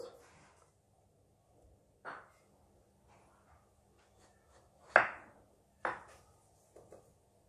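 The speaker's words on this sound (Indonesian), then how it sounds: "setelah itu pepaya kita potong" A knife slicing papaya thinly on a cutting board in a home kitchen, a few sparse sharp chops spaced a second or so apart, quiet between strokes.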